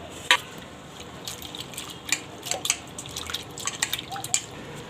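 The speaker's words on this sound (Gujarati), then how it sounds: "તો 3 થી 4 પાણીએ આપણે આને ધોઈ લેવું સરસથી" Thin sliced flakes for green chevda get rinsed in water, producing faint, scattered drips and small splashes with irregular, close-up trickling and no talk.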